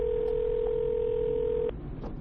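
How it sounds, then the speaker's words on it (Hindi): A steady telephone dial tone sounds on a phone call, one continuous clear tone that cuts off abruptly after under two seconds, leaving faint background noise. "इसलिए मैंने उसके केयर टेकर मोंटी को कॉल किया।"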